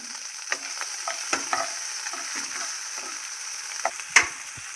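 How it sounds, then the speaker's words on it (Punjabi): Onion, garlic, ginger and cumin fry in a pan with a continuous bright sizzle and repeated stirring scrapes and taps, close and fairly loud, with no talking. "ਹੁਣ ਭੁੱਜ ਰਿਹਾ ਜੀ ਪਿਆਜ਼ ਲਸਣ ਅਦਰਕ ਤੇ ਜੀਰਾ"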